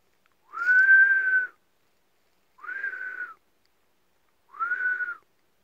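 Someone whistles three sustained notes, each about a second long with a slight rise and fall in pitch and short pauses between them, clear and close in an otherwise quiet space.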